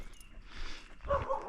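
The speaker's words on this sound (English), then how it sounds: "There's a big dog." A big dog at the Wegner Crystal Mines gives a short, gruff bark near the end, somewhat distant and fairly faint against quiet outdoor background.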